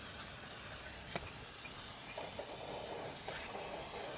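Brake cleaner sprays from an aerosol can during a clean-up on a Suzuki DL1000 V-Strom motorcycle, a steady, close hiss lasting the whole stretch with a few faint knocks underneath.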